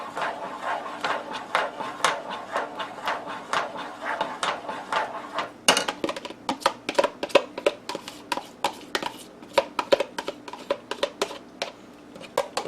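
Spoon stirring ingredients in a hot pot of Königsberger Klopse sauce, a rapid series of close scraping and clinking knocks against the pot, denser and sharper after a brief pause midway, with no talk.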